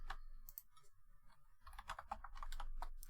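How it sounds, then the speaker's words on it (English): Fingers type on a computer keyboard during a buffer overflow hacking exercise, giving a string of close, crisp key clicks in an uneven rhythm, faint in level and heard alone without talk. "Where am I typing?"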